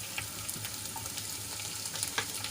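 Chopped garlic, dried red chilli and curry leaves sauté in hot oil for a methi papad curry, a steady close sizzle with light crackles and occasional stirring scrapes, no voices.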